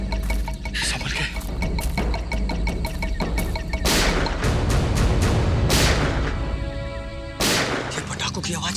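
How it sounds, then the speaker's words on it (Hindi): Loud, sharp bangs of firecrackers bursting in a jungle in an irregular volley, some cracks close and heavy, over a rough, noisy background. "ये पटाखों की आवाज कैसी आ रही है? जंगल में पटाखे कौन चला रहा है?"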